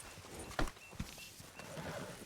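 A horse in Red Dead Redemption II whinnies faintly with a couple of soft hoof clops, quiet and brief against low background noise.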